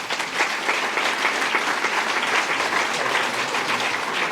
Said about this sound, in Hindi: में तो आपकी तालियां भी चाहिए